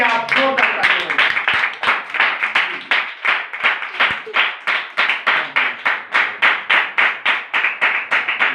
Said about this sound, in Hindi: और एक बार अपने लिए ही आप जोरदार तालियां बजाएं।